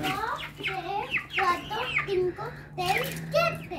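Hens cluck and murmur close by while a child and an adult talk over them.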